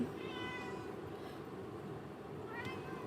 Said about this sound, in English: I don't know who's meowing, but y'all need to stop.